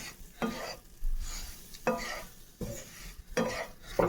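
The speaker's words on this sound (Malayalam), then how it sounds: "നമ്മൾ നല്ല പോലെ നെയ്യിൽ ഗോതമ്പ് പൊടി ഒന്ന് ഇളക്കിയെടുക്കുക" Wheat flour is stirred in ghee in a pan, a spoon scraping in repeated strokes roughly every second, each a short rasping sweep with faint sizzle between, close and fairly quiet.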